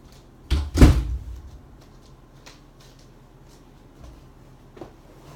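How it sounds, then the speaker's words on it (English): A door is handled close by: a loud thud and rattle as it is pushed or shut, followed by a few faint knocks and clicks in an otherwise quiet room. "this door is pissing me off"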